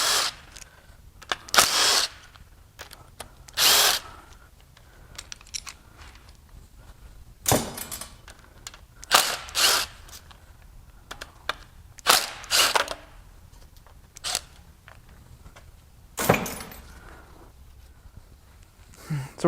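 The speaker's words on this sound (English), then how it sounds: "I'm going to go ahead and pull this chain off. All the guides and tensioner." A Honda K20Z3 engine from a Civic Si is torn down, with its timing chain, guides and tensioner pulled off. Sparse metallic clinks, rattles and sharp knocks sound close by between long quiet gaps.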